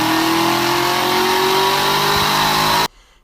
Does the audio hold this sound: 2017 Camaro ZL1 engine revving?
yes